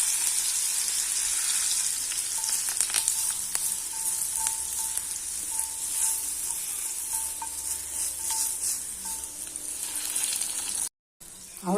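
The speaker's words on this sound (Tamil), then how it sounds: "இப்போ சட்னியில் ஊற்றிடலாம் தாளிப்பை." Hot oil tempering of mustard seeds and curry leaves sizzles steadily as it is poured into a spicy shallot-and-chili chutney, a bright continuous hiss with faint crackles, ending with a brief cut-off.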